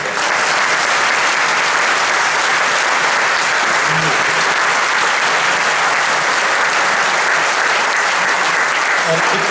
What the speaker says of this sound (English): will you guys join me in giving them a round of applause?